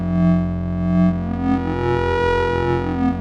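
A Behringer CAT analog synthesizer plays a sustained, buzzy tone rich in harmonics, with LFO modulation making its pitch waver and phase drift in and out, loud and alone.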